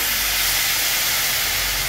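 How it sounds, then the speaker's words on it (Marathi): Water is splashed into a hot pan of dried fish chutney spiced with turmeric and red chilli, producing a loud, continuous close hiss of steam and sizzle throughout. "आता याच्यावर आपण थोडासा पाण्याचा हापसा मारूया"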